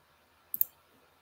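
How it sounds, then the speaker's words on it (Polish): A computer mouse clicks twice in quick succession, sharp and close, with near silence before and after. "Klikam tutaj rozdział i przechodzę dalej."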